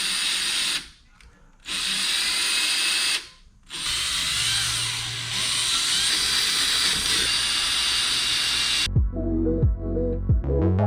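A power tool cuts through the rear bumper of a JDM car as a fog or brake light is fitted, a loud continuous high whine that drops out twice briefly, then stops and gives way to a few clanks and thumps near the end.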